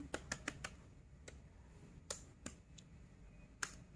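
Someone typing a SQL database command on a computer keyboard: scattered, sharp key clicks in short bursts with pauses, quiet and close.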